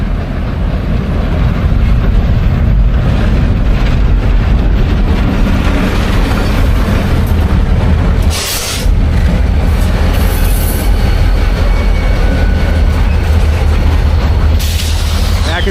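A CN Rail freight train rolls past on the tracks close by, a loud continuous rumble and rattle of wagons with squealing wheels and a brief drop around the middle, with no talk.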